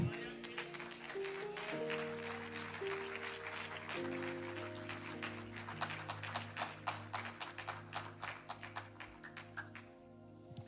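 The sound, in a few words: church congregation applauding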